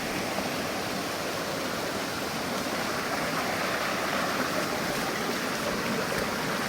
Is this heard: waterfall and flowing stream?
yes